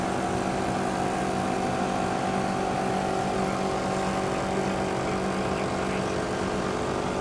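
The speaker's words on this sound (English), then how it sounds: "air compressor's hooked up, put the air back in the tyres at the end of the day" An air compressor hooked up under an open car bonnet runs steadily to reinflate the tyres, giving a continuous, even mechanical drone with no pauses and no talking.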